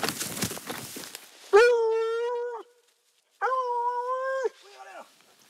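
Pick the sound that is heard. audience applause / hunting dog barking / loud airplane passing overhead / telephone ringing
hunting dog barking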